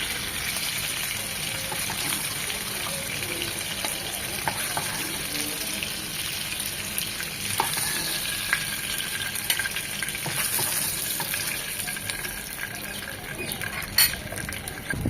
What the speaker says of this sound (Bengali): ওই পিঠটাও ঠিক এরকম 1 মিনিট ভেজে নেব, কড়া করে ভাজবো না।